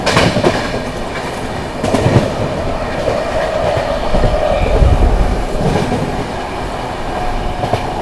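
Anand Vihar–Prayagraj Humsafar Express train running at speed past another express, a loud continuous rumble of wheels with clickety-clack rail joints and occasional squeal, close and unbroken.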